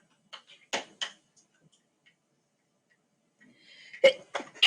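A sneeze in a classroom during a math lesson, short sharp bursts heard at a moderate distance, with a quieter cluster near the start and a louder pair toward the end, otherwise quiet.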